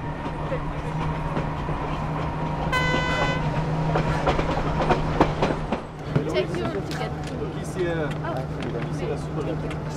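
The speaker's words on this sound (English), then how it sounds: "the fellowship boards a train that will take them to the stone steps that lead up to Inti Punctu" A train carrying a group through the Andes toward the stone steps to Inti Punku, with a steady rumble and rail clatter and a brief horn-like tone partway, heard under voices talking.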